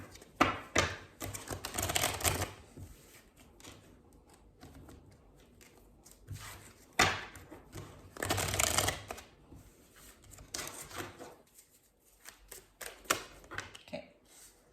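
Tarot cards are shuffled close by in several rustling, riffling bursts separated by quieter handling and soft taps, fairly faint overall.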